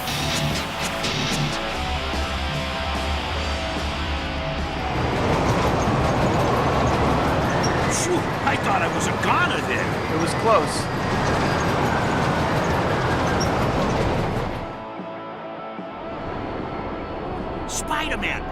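Hijacked express train in the Spider-Man 3 video game, a loud rumbling rush of rail noise with rattling clatter that swells midway and cuts off near the end, with voices talking over it.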